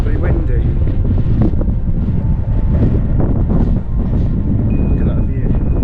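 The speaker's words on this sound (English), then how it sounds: "It's incredibly windy." Strong wind buffets the microphone on top of Stanage Edge in the Peak District in winter, a loud, continuous roaring rush with no let-up.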